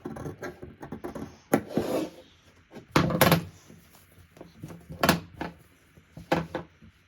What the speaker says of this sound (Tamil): எப்போவுமே சிசர் நீங்கள் கட் பண்ணும்போது சிசர் தான் வந்து இப்படி கட் பண்ணணும்.